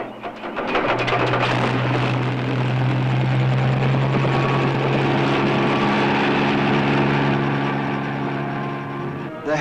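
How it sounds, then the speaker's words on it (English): A helicopter flies over wild bush country, its rotor thumping steadily and loudly throughout with a strong droning engine whine, building in at the start and fading slightly at the end; a voice is faintly audible underneath. "The helicopter gives us a great view and tremendous mobility."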